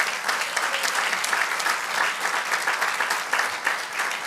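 A church congregation breaks into steady, sustained applause, a dense even wash of many hands clapping together with no talking over it.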